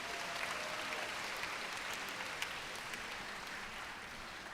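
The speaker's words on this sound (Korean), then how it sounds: "다시 한번 우리 중등부 에베네셀 송지민과 김태현 에베네셀에게 큰 박수" A church speech event audience gives big applause for two middle-school students, steady continuous clapping, fairly faint and distant, with a few sharper claps standing out.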